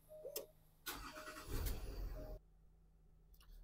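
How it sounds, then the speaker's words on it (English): A Land Rover 3.0 SDV6 diesel cranks briefly and fires up with a loud surge, settling after a couple of seconds, then cuts to a quieter hum; no one speaks. "I'm going to start the car."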